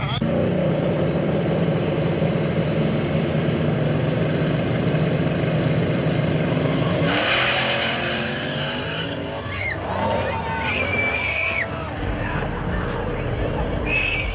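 A truck launches hard in a no prep drag race, its engine roaring loud and continuous as tires lose traction and squeal, with crowd noise and talk mixed in over the racing din.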